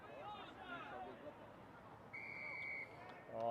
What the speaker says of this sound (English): Brian has blown the whistle for offside